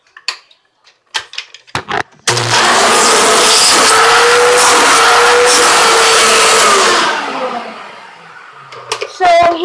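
A 2001 Hoover WindTunnel self-propelled upright vacuum cleaner runs with a loud, steady whine and roar for about five seconds, then powers down, with brief knocks and handling sounds before and after.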